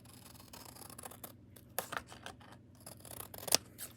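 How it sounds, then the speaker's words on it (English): Scissors trim close around the album cover of a cassette tape, giving quiet, close, irregular snips with a sharper cut near the end. "Make sure you're not cutting through the album cover at all, because we want to preserve that."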